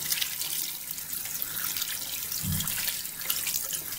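Cold water runs steadily from a tap into a sink while something is rinsed and squeezed out, a continuous hiss and splash with a brief low thump midway, and no talking.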